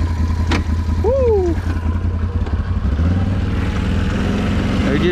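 A Can-Am Renegade XMR 1000 ATV on a flooded trail runs with a steady, loud, low engine rumble close by. A person talks over it and a brief whistling tone slides in midway.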